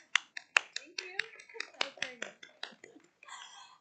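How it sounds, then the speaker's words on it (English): Sparse applause from a small group at a school district board work session, with a dozen or so separate claps spread irregularly across a few seconds, close and fairly clear, fading into a brief murmur of voices at the end. "would it be okay if we gave you a round of applause, Emily?"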